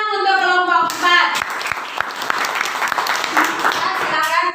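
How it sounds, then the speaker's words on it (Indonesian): Students in a classroom clap for a group after a math lesson; scattered, uneven clapping follows a brief tonal sound at the start, with loud, lively room noise throughout. "Oke, kita berikan tepuk tangan untuk kelompok 4."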